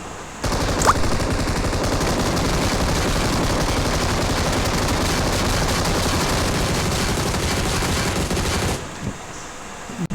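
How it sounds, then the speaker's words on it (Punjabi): Rapid automatic gunfire in a shooting video game, a dense unbroken machine-gun burst lasting about eight seconds at full loudness before cutting off abruptly. "ਉਹਦੇ ਕੋਲ ਜਾ ਕੇ ਮੈਂ ਫਾਇਰਿੰਗ ਸ਼ੁਰੂ ਕਰਦਾ ਵਾਂ"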